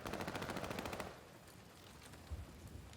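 Automatic gunfire in the Call of Duty video game, a rapid burst of close, loud shots for about a second, followed by quieter scattered ambient game sounds and a faint thud.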